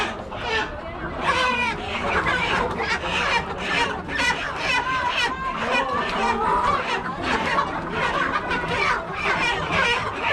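Country chickens clucking and squawking at a chicken farm in America, amid busy market-like chatter, with several voices talking loudly over the birds throughout.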